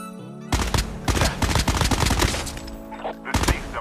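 Sustained automatic hipfire from an MX-9 submachine gun in Call of Duty Mobile, a dense, loud stream of rapid shots running almost continuously, with a short pause before a final burst.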